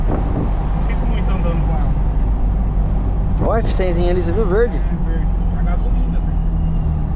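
A chipped 300 hp Ford F-250 4x4 with a straight exhaust accelerates hard, its deep engine roar and wind rumble loud and unbroken from inside the truck, while a voice speaks briefly midway.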